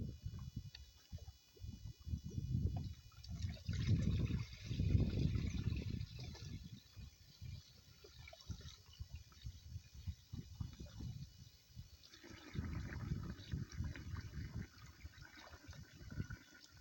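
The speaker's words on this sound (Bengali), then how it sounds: "তো আমি জলটা ভরে নিলাম" Water being filled into a container for mixing humic acid fertilizer for cauliflower plants gives quiet, uneven gurgling rushes that swell and fade, with no voices.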